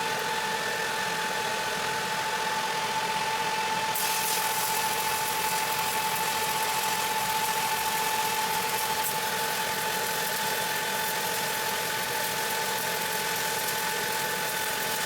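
Welding machine running, turned down to about 75 amps for a 2-inch pipe weld: a steady, even mechanical drone with a constant tone that holds for the whole stretch, a brighter hiss joining partway through. No speech.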